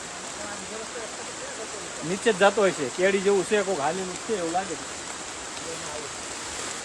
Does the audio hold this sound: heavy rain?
yes